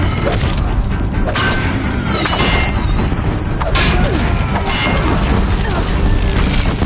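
Deathbringer war machines in Horizon Zero Dawn keep up heavy fire near a bridge, with loud booms, crashes and metallic impacts packed tightly together, and voices talking over the battle.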